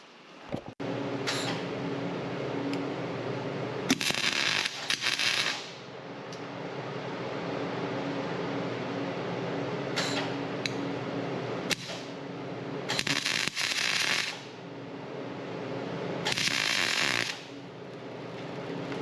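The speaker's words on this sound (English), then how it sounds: "We're going to hold the nut in place, and then we're going to tack weld this on." Short bursts of tack welding fuse a nut onto a broken bolt under an RCI skid plate install on a GX470, several crackling, buzzing spurts of a few seconds each separated by quieter steady background hum.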